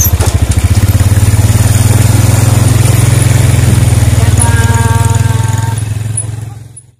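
A motorcycle engine idles close by with a steady, low rumbling putter, then fades away near the end.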